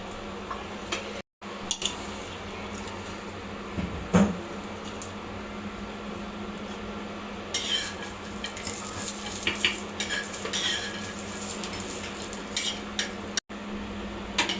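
Grated coconut roasts in a pan while a spatula scrapes and stirs it, with light ticking and clinking of utensil on metal over a steady low hum, growing busier in the second half.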